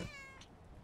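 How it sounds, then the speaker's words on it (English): A cat in the horror video game Demonologist gives one short, close meow followed by a faint trailing sound, quiet over a low background hum. "Oh, it meows. He's so cute."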